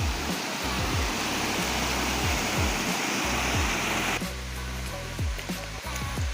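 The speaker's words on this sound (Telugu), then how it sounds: "ఫ్రెండ్స్, సౌండ్ వస్తుంది జలపాతం." Ksheera waterfall roars as a dense, steady wash of rushing water, loud and close, with rhythmic low thuds in the background and the texture thinning slightly near the end.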